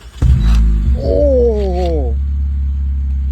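An exhausted BMW R18 motorcycle with its muffler removed blips up in a deep, wavering rev that climbs and then falls back to a rumbling idle, up close, with a short exclamation at the start.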